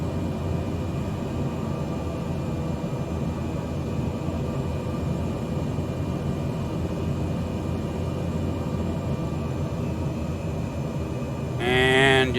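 Steady drone of a propeller airplane's engine in Microsoft Flight Simulator, a constant cockpit rumble with a faint whine, followed at the very end by a brief high warning tone.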